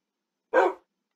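A Minecraft wolf wearing a magenta collar gives a single short, clear bark, close and fairly loud, followed by silence.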